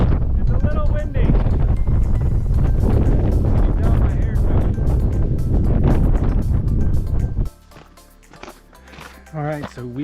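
Strong wind gusts on a mountain trail in Big Bend National Park, roaring heavily against the microphone for most of the clip before suddenly dropping away, with some talking in the background.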